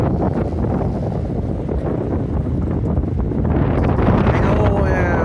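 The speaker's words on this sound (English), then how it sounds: "we got some wind coming in" Strong gusting wind blows outdoors and buffets the microphone with a loud, steady roar, rising slightly toward the end as a faint whistle comes through.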